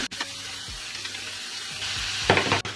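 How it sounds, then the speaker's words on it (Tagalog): Beef steak frying in a pan gives a steady sizzle with a few clinks and thumps of cooking utensils, close and continuous. "We will now have to fry the beef steak."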